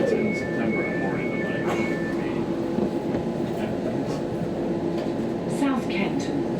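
London Overground Lioness Line train running between Euston and Watford Junction, a steady low rumble and rolling hum of the carriage throughout, with faint voices and brief tonal chimes in the cabin.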